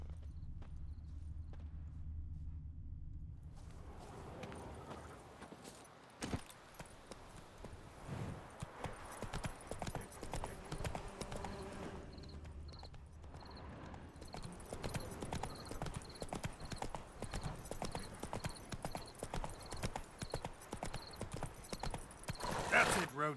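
Roach the horse's hooves clip-clop steadily along a path in The Witcher 3, the rhythmic hoofbeats running throughout beneath a voice and game ambience.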